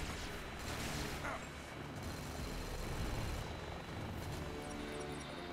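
An airplane in the Bulletstorm video game roars loudly and continuously overhead, a dense mechanical drone that fills the scene with almost no talk.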